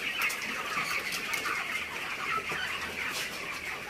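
Chickens on a large poultry farm of about 10,000 birds ready for harvest, clucking and squawking in a dense, continuous chorus with occasional wing flapping, steady and moderately loud throughout.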